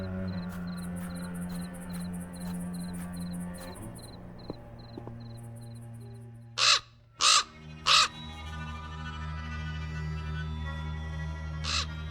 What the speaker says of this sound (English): Damn bird again.